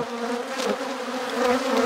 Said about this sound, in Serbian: I ogromna količina pčela.